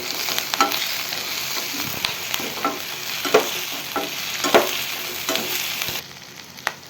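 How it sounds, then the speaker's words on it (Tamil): Chopped tomatoes sauté with softened onions in a pan for paneer butter masala, giving a steady broadband sizzle with repeated scraping stirs and taps of a spoon, loud and close, with no voices. "அப்போ வந்து தக்காளி போட்டு வதக்கிக்கோங்க"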